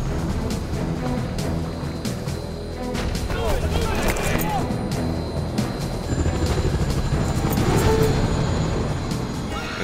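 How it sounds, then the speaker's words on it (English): Two helicopters come in low across the water, their rotor and engine noise a steady loud rumble that swells slightly, with a voice talking over it. "Coming in low across the water, the first two choppers approach the western zone."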